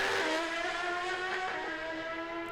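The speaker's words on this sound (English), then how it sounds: "It's great to have this buy run to really appreciate the sound of that heavily modified Hayabusa." A heavily modified Suzuki Hayabusa Pro Stock drag motorcycle screams down the strip at Calder Park Raceway, a high, harmonic-rich engine wail that shifts pitch as it pulls away, fading slightly into the distance.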